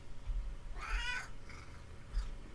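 A pet cat lets out a drawn-out meow, then a shorter, fainter one a moment later, over a low background hum.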